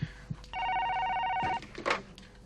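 A telephone rings with one sustained electronic trill lasting about a second, surrounded by faint room noises and light rustling.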